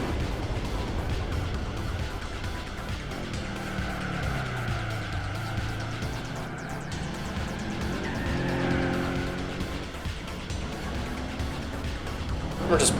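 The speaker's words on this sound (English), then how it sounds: "we're already redlined a third of the way down the straight" Race car engine screaming at redline in Gran Turismo 4, loud and continuous with rising and falling pitch sweeps as it shifts, tyres squealing underneath, while a person talks over it throughout.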